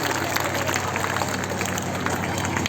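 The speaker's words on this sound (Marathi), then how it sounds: "सर्वांनी उभं राहून टाळ्यांच्या गजरात परत एकदा जोरात टाळ्या होऊ द्या" An audience at a Buddhist stage ceremony applauds steadily as monks arrive, a dense, continuous wash of clapping throughout with a constant background hum.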